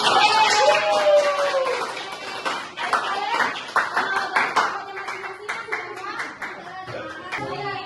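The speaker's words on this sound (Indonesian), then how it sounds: "Tepuk tangan untuk itu." Students in a classroom clap for a group's poster presentation, a scattered burst of hand claps that starts after a voice and trails off into irregular claps, with talking over parts of it.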